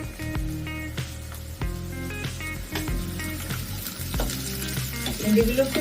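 Okra (bhindi) frying in a pan with onion, garlic and chilli, a steady sizzle with stirring clatter and scrapes, background music playing underneath.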